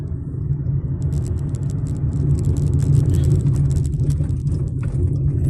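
Heavy road traffic on the route from Guadalupe to Cainta rumbles as a continuous low engine drone, heard from inside a vehicle with faint higher rattles and no clear talking.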